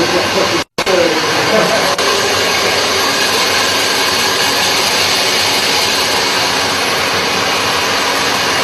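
A hair dryer blows steadily and loudly at close range during an indoor photo session. Its continuous rushing whir is broken by one brief cutout near the start.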